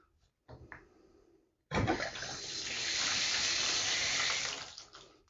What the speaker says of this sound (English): I'll turn the water back on.